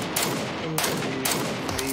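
Three sharp, loud M24 sniper rifle shots in a battle game, spaced about half a second apart, each a crisp crack with a brief ringing tail.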